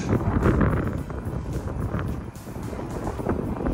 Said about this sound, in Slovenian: Če koga zanima, piha veter na vrhu, dober je ne.